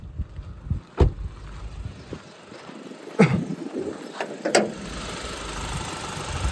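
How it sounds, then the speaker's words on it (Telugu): Diesel engine of a 2023 Hyundai Venue S+ running with a low, quiet idle hum, broken by a few sharp clicks and clunks from the car, close by and with no talking. "ఒకసారి ఇంజన్ సౌండ్ చూపిస్తే మీకు."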